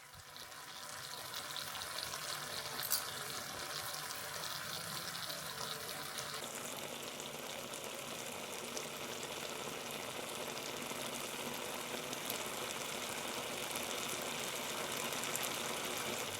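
Halloumi cheese frying in a pan, releasing liquid and bubbling with a constant soft sizzle and crackle, fairly quiet and close, steady for a long stretch without voices.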